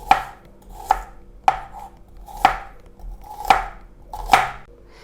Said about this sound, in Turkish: mor soğanları doğruyoruz